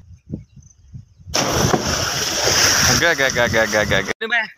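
A person jumps into a river with a sudden loud splash, and the water rushes and churns for a few seconds afterward. People talk before and after the splash.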